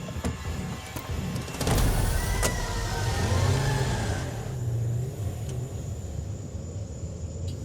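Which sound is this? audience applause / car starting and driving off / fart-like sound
car starting and driving off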